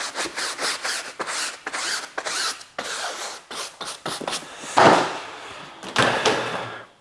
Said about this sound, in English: I'm just kind of rubbing with it with my finger and just kind of rubbing at these edges and lines.